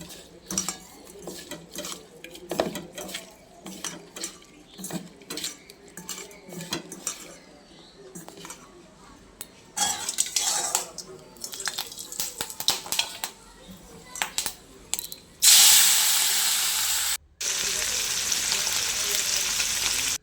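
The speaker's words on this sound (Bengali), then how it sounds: "এখন মাছের ডিমটা ভাজা করে নেবো" Fish roe fries in oil in a kadai with a crackling sizzle, mixed with clattering scrapes of a utensil against the pan. Near the end it swells into a loud, dense hiss, and voices come and go over it.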